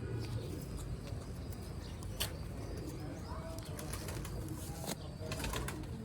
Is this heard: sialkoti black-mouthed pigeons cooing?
yes